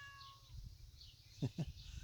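A farm cat gives two short, faint meows in quick succession over a quiet background with low rustling.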